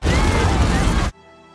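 A loud film explosion as an apartment is blown up: a dense, roaring blast that holds at full strength for about a second, then cuts off abruptly to a quiet tonal tail.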